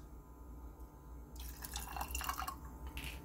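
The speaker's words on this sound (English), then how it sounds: "now we're also supposed to add some water." Water poured into a freshly pulled double espresso for nitrogen-infused coffee, a soft trickling and dripping stream that starts partway through and runs on quietly near the mic.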